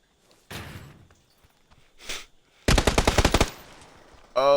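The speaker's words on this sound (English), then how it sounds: "Oh, shit, somebody just shot at me" Gunfire in a battle royale video game: a muffled thump and distant shot, then a loud rapid burst of automatic fire with about ten evenly spaced cracks, followed by another sharp shot.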